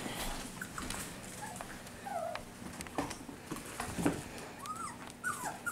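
Cavapoo puppies waking from a nap whimper and give small growls and yips, soft scattered cries coming in short bursts over low room noise.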